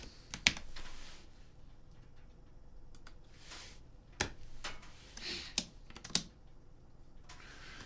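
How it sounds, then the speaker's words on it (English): Computer keyboard typing in a quiet room, a few scattered clicks and short bursts of keystrokes with pauses between them, close and fairly soft, with no talking. "So I'm typing up a storm and accomplishing nothing."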